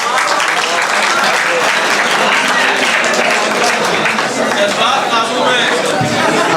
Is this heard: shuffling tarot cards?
no